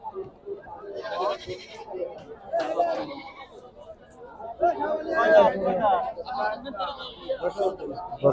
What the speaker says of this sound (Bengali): ছাগল আর ছাগল